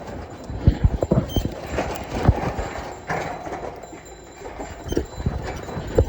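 Bullock hooves clip-clop in an uneven rhythm close by, with creaks and rattles from the bullock cart rolling along, loud and busy throughout.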